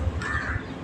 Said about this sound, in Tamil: அது காக்கா